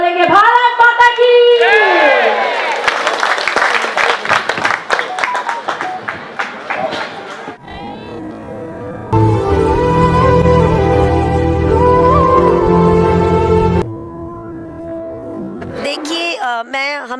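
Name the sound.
crowd applauding loudly at political rally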